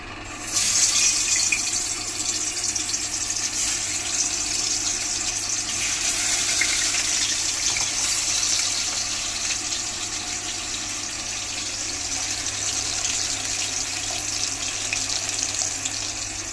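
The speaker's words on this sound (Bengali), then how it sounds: "তেল গরম হয়ে গেছে, মাছটাকে ভেজে নেব।" Hilsa fish fries in hot oil with a continuous bright, hissing sizzle that flares near the start and then holds steady and close for the whole stretch. No one speaks.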